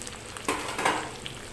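Chopped onions fry and are stirred in a pan while a chicken Manchurian is being cooked at home, giving a steady close sizzle with a louder scraping stir partway through and no talk.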